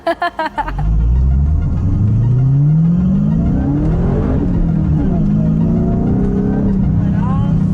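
A car with all driver-assist systems switched off revs hard on a driving course, its engine climbing steadily in pitch with a loud, continuous roar, then dipping and rising again through turns; a brief sharp start precedes the sustained engine.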